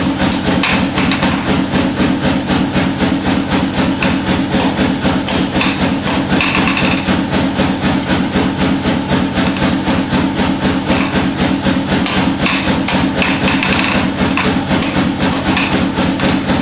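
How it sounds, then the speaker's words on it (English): Rapid, steady hammer blows on hot metal being forged for a crucifix ring out loud and close in a fast, even rhythm for the whole stretch, with no talking. "So we'll forge this up."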